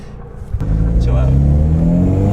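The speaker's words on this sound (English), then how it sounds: "Rev it up!" A car with a VQ engine being revved, a steady loud mid-pitched engine roar that builds after a brief bump and holds close by, with voices heard over it.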